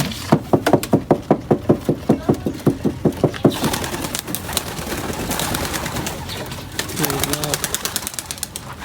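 Racing pigeons coo in a quick, regular series of throaty pulses, close and fairly loud, followed by a denser murmur of birds. A voice briefly sounds near the end.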